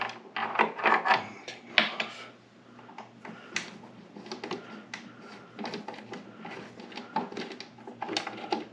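The back cover of a Vevor 7x12 metal lathe is opened: close, scattered clicks, knocks and scraping handling noises come in uneven bursts, busier at the start and end, with no talk.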